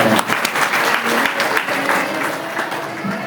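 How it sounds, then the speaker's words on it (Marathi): A live audience at a spiritual discourse claps loudly and steadily, a dense wash of hand claps that holds at full strength from start to end. "जोरदार टाळ्या वाजवा त्यांच्या"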